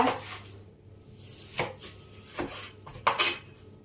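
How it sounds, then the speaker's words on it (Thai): A knife chops chicken into small pieces on a board in a handful of sharp, separate thuds, with quiet pauses between each cut and no talking. "เดี๋ยวเรามาหั่นไก่ก่อนนะคะ หั่นเป็นชิ้นเล็ก ๆ นะคะ"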